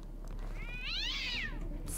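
A cat in the video game Deus Ex gives a single clear meow, rising then falling over about a second, close and moderately loud above a faint low hum, with no talking.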